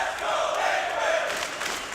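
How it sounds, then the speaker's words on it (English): A large arena crowd at a 2019 BLAST Pro Series CS:GO match in Miami, Astralis versus Liquid on Overpass, roars and cheers in a steady, dense wall of noise that stays loud throughout. "The crowd are loving it"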